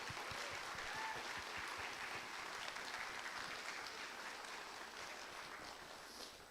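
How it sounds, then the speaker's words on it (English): A school concert audience applauds the 8th grade choir singers at a middle school choir concert, a dense, fairly distant wash of clapping that continues evenly and tapers slightly at the end. "I'd like to take this moment to just give our 8th graders a round of applause"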